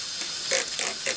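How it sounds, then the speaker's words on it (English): Short bursts of cleaner spray hit the oil drip pan of a vintage Singer 403A sewing machine, three quick hissing puffs close by with no talk. "I'm going to spray it again"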